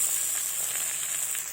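Eggplant and potatoes frying together in a pan, a steady bright sizzle and hiss that holds evenly throughout without pause, close and moderately loud, with no voices.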